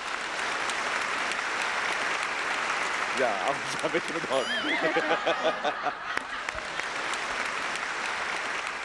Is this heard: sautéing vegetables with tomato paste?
no